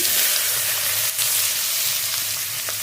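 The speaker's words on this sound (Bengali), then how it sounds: "পেঁয়াজটা একটু হালকা ভাজা হতে থাকে" Chopped onion frying in oil makes a loud, continuous hiss and sizzle, close and unbroken for a few seconds.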